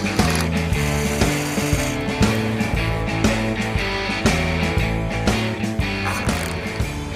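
Zip ties ratcheted tight while fastening a roof panel onto a dragster built from an old truck, a steady run of loud, close clicking ratchet pulls repeating rhythmically throughout.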